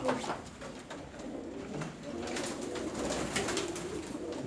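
Pigeons coo and flutter close by, soft repeated calls over a steady background murmur of movement and faint voices.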